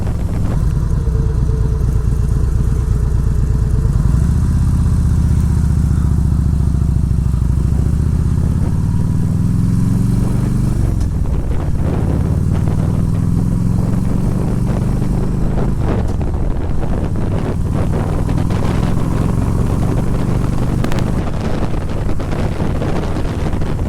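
A 2004 Harley-Davidson Road King rides through town, its engine a steady low rumble that rises and falls with gear changes under constant loud wind buffeting on the microphone, with no talking.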